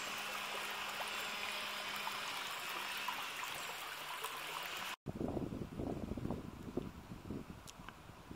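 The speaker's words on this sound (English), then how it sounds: "through the water rushes in through a network of channels" Water flows through the channels of a flooded water meadow with a steady, rushing hiss. Partway through, the sound cuts briefly and returns as a closer, more uneven gurgling and splashing, with faint wind noise throughout.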